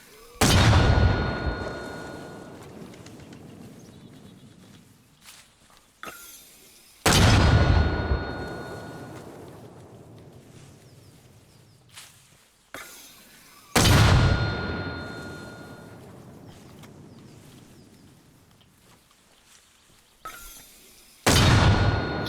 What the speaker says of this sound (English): Right, so once we've done that, we can fire these rounds.